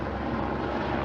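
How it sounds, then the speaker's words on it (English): A helicopter hovering overhead near abandoned buildings at night, a steady dense rotor and engine rumble that fills the whole moment without a break. "As a helicopter is hovering over us."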